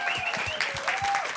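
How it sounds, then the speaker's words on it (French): Brief, steady applause from a studio audience greeting a guest's entrance on a French-language show, with a tonal voice or music line running over the clapping. "On commence à applaudir tout de suite pour une fille que j'adore"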